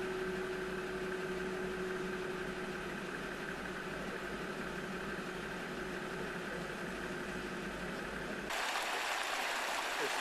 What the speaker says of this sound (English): It's the River Angus flowing over Hoyslers Ford.